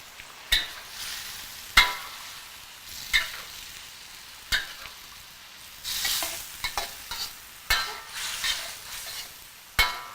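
Lobster stir fry sizzling in coconut milk sauce in a pan, a close, continuous fry broken by sharp clacks and scrapes of a utensil against the pan at irregular intervals, with no talking.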